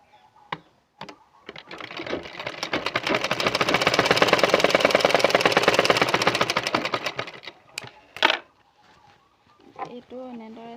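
A sewing machine stitches a border onto a bedsheet, its rapid even clatter swelling to a steady run for several seconds before slowing and stopping, with someone speaking briefly before and after.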